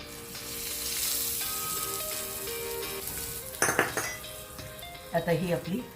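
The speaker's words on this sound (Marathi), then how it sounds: "तोपर्यंत आता चटणीसाठी फोडणी करून घेऊया" Tempering for raw mango chutney sizzles steadily in a pan, a continuous frying hiss with clinks of utensils and a few louder clattering bursts near the end, set against background music.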